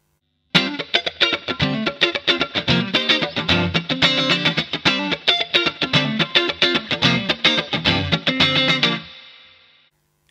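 Funky rhythmic strumming on a vintage Fender Stratocaster through its Bare Knuckle neck pickup, crisp choppy chords with a steady groove, then a final chord ringing out and fading alone.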